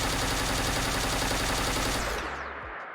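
Laser RCW energy weapon in Fallout 4 firing on full auto, a dense loud crackling stream of rapid shots that cuts off and rings down into a short fading tail.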